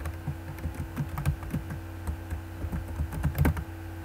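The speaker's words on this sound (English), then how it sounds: "we're going to type in Great Improvement." Someone types on a computer keyboard, a quick, steady run of crisp key clicks and taps close by with no voices over it.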